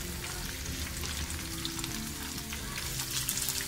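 Potato chips fry in a pan of hot oil, a dense continuous crackling sizzle that stays loud and close throughout with no talking.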